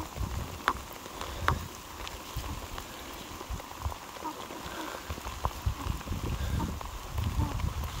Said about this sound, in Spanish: ¿Cómo jarrea el agua?